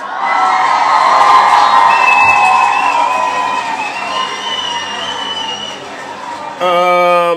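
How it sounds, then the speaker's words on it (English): A large crowd cheers and whoops loudly throughout, with excited shouting sustained across the whole stretch and a brief swell near the end. "You all deserve a round of applause."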